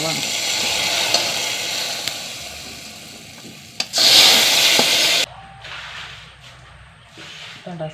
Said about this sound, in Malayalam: ഉള്ളി നന്നായി മൂത്ത് വരട്ടെ.